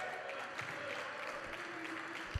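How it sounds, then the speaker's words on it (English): Fans clap at a college men's basketball game, Catawba against Carson Newman, a steady spread of applause filling the gym with a thump near the end. "getting some fans applauding their efforts down on the defensive end"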